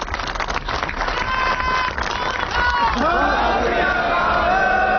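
A live audience at an outdoor speech event bursts into loud clapping and cheering, a dense crowd roar that holds steady through the whole stretch.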